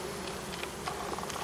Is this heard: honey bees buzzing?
yes